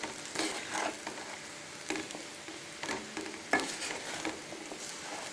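Rice frying and being stirred in a pot for Kerala-style jackfruit biryani, with a soft steady sizzle broken by a few scraping stirs of a spoon against the pot, close by and with no voices.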